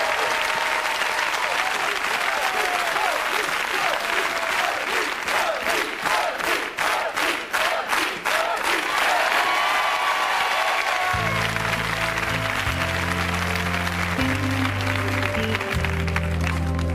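A television studio audience applauds with sustained clapping and some crowd noise, swelling into rhythmic unison claps midway, before the opening music of a song begins under the fading applause.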